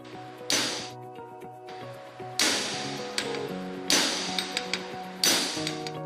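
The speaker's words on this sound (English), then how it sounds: "Slowly drive in bearing until the metallic sound is heard." A common hammer strikes a sleeve to drive a bearing's inner ring onto a shaft, four sharp metallic blows spaced about every one and a half seconds, each ringing out, with lighter taps between.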